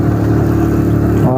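A motorcycle engine hums steadily and close as the bike is ridden in cold, rainy weather in Murree, with a voice seemingly over the engine noise and the tone rising slightly at the end.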